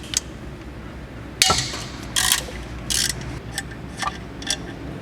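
A socket ratchet works on the CV axle bolts of a VW Passat, giving short, separated metallic clicks and clatters in irregular bursts over a quiet garage background.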